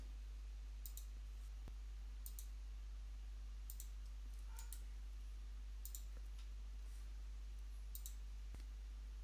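Faint, sharp clicks of a computer mouse during right-clicking in ArchiCAD software, about half a dozen spaced roughly a second or more apart over a steady low electrical hum.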